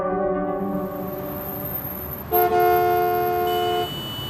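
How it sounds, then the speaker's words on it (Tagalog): Car horns blare in heavy street traffic, one sustained honk joined by a second louder, higher horn midway, both held for over a second over a constant traffic rumble. "Grabe ang traffic."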